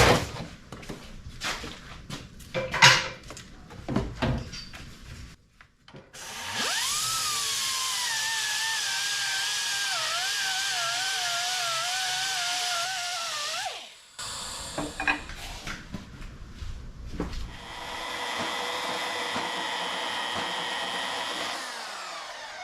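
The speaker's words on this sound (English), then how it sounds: "We're just die grinding them to open them a little bit" A die grinder works fabricated steel stabilizer and crab block parts, opening up holes in a steady, loud high-pitched whine with wavering pitch that runs for about seven seconds, stops, then starts again for a second long burst.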